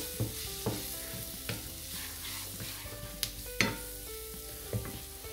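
Stuffed pepper browning in hot oil in a pan gives a steady close sizzle, broken by several sharp clicks and scrapes as it is stirred and turned.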